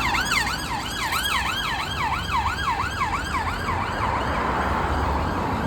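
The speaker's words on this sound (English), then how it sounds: "Is it a police car or an ambulance? You can hear the siren." A UK police car siren wailing close by on a residential road, a rapid repeated rising-and-falling yelp over steady traffic rumble that fades toward the end, with no talking.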